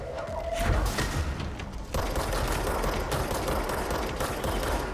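Gunfire in the video game Control comes as a steady, dense clatter of shots and impacts layered with rumbling game effects, continuous and fairly loud throughout.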